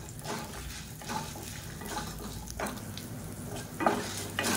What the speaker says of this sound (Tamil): இப்போ பாருங்கள் எல்லாமே நல்லா வறுபட ஆரம்பிச்சிருச்சு.